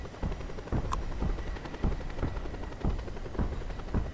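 In the video game Just Cause 2, a helicopter in flight gives off a steady, rhythmic rotor thump with a constant whine, fairly loud and continuous, with no voices over it.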